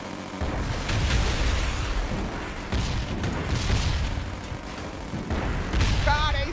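Explosions and missile launches from the military strategy game Forward Defense, a dense, continuous barrage of loud booms and blasts layered with a voice talking over the action.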